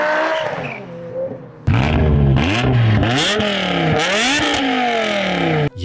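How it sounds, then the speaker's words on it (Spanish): A BMW M5's V10 engine revs hard, first a quieter idle-like tone, then a sudden loud burst of rising and falling revs in quick repeated sweeps, close and alone. "El M5, un inverosímil V10,"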